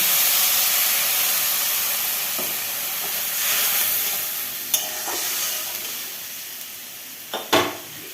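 Fish curry simmering in a pan hisses and sizzles steadily as a little water is poured in, with a few sharp clinks of a utensil against the pan near the end.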